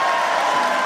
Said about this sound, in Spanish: Aplausos. Hay aplausos.